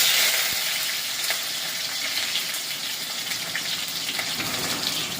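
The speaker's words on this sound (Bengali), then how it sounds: "দিয়ে দেবো কাটা পেঁয়াজ" Chopped onions hitting hot oil with bay leaves and whole garam masala, a loud bright sizzle that starts strong and keeps frying steadily up close.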